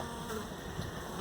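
Honey bees swarm around their queen during a hive installation, a steady close buzzing drone of many wings with no voices, lasting only a moment.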